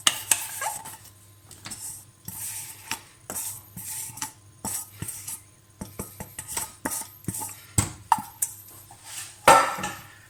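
A silicone spatula working a roux into boiling milk in a pan, producing a series of close, irregular scrapes and knocks against the metal, separated by short pauses.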